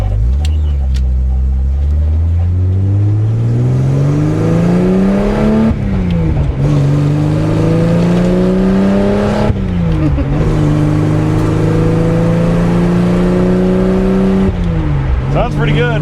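A 1980 Datsun 280ZX engine heard from inside the car as it accelerates onto a highway, droning loudly and rising through several gear changes with brief dips between, with people talking over it.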